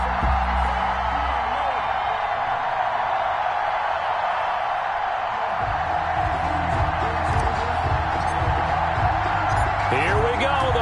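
A stadium crowd in an NFL video game before the Detroit Lions play the Chicago Bears keeps up a continuous, loud cheering roar, with a commentator's voice running over it for much of the time.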